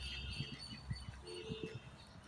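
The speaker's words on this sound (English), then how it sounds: "I like the sound of the birds on top here," Birds chirp from trees overhead on a cold, rainy day, with short, fairly faint calls spread over steady outdoor background noise.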